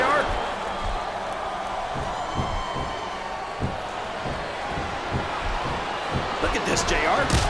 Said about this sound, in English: I think this crowd's giving these superstars a piece of their minds, King.